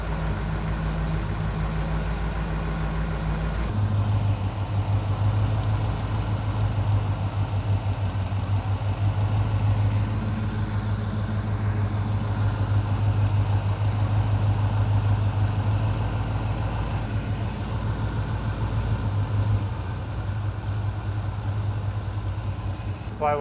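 A 1965 Chevrolet Impala or Nova engine with a carburetor lacking its accelerator pump, idling with a steady low drone that shifts to a heavier, louder idle after a few seconds and holds evenly throughout.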